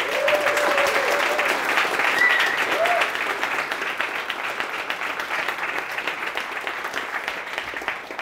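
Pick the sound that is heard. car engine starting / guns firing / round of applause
round of applause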